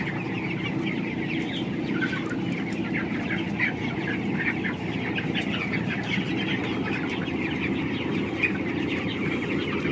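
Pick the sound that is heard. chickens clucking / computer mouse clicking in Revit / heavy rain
chickens clucking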